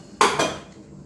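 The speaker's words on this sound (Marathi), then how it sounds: "पातेला ठेवलेला आहे।" A metal cooking pot is set down in a home kitchen, giving two quick clanks about a fifth of a second apart, close and fairly loud, with a short ringing tail and no voices.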